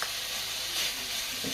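Bacon lardons sizzle steadily in hot oil for cabbage, a dense close hiss with faint crackle throughout and no talking.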